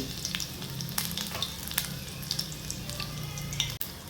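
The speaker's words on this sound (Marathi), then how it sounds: "सर्वात प्रथम आपण मोहरी घालू जिरं चिरलेला लसूण" Mustard seeds, cumin and chopped garlic fry in hot oil, giving a steady close sizzle with scattered sharp crackles and pops and a single louder knock near the end; no voices.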